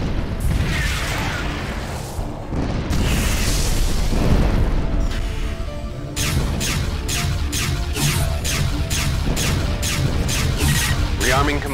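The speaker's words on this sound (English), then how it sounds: "I'm just throwing synaptic bombs at anyone for the best." Synaptic bombs detonating in the space combat game FreeSpace: The Great War: heavy rolling booms and roaring blasts, followed by a steady series of sharp pulsing bursts, with voices talking over the action.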